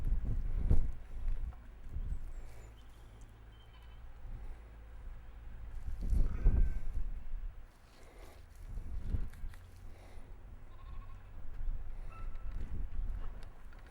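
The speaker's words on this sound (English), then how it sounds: "The wind's getting up now." Gusty wind blows outdoors around an artist painting a wooded landscape at an easel, rising and falling in broad low rumbling surges with microphone buffeting, strongest near the start and again midway.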